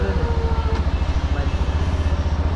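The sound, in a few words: brand-new Yamaha version 4 motorcycle engine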